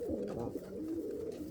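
Fancy breeding pigeons, Indian fantails, pouters and frillbacks, coo in a low, continuous rolling murmur, close by and steady throughout with no voices.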